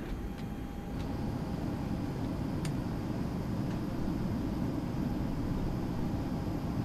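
Steady broadband rush of air flowing into an aircraft cabin in a flight simulator, a constant even hiss and low rumble with a faint tonal whine and a few soft clicks, no voices.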